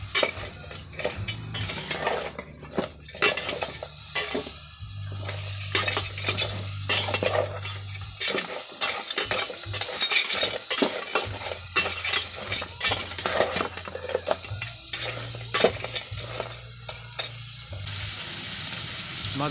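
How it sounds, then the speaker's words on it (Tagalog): Stirring melted margarine in a cooking pot for a lobster and crab dish: steady scraping and clinking of a utensil against metal over a continuous sizzle, close and busy throughout, with no talking. "haluin po natin ng maayos nang kumalat po yung margarine"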